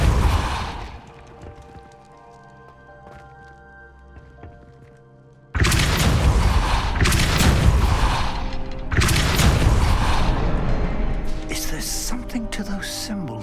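A Depulso spell fires in Hogwarts Legacy, a heavy booming impact bursting in after a quieter ambient stretch, followed by further loud thudding crashes and rumbling debris with a spoken voice woven through.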